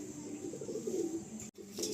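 Fancy pigeons in a breeder's loft in Garia, Kolkata, give soft, fairly close cooing in a short, rolling run, followed by a brief silent gap and then a little more.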